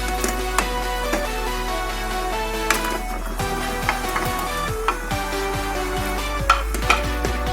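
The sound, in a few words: paneer added and stirred into boiling sugar syrup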